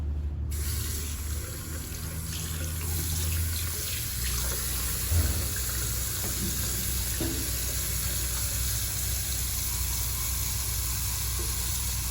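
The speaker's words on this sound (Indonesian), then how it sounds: "Selanjutnya saya akan melakukan cuci tangan dengan 6 langkah WHO." Tap water runs steadily into a sink while hands are washed beneath it, giving a close, continuous hiss and splash with faint shifts as the hands move.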